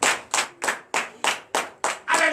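A church congregation at a Sunday service claps together in a slow, even rhythm, eight sharp unison claps spaced about a third of a second apart, close and crisp, with a voice entering on the last beat.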